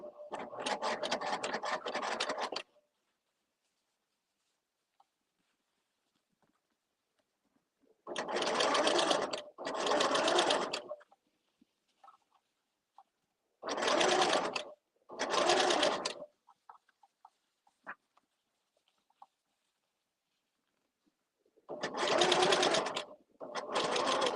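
A sewing machine stitches the lining of a fabric thread catcher in several close bursts of rapid, even stitching, each a few seconds long, separated by long quiet pauses with faint handling sounds.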